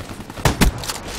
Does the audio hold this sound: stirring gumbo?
no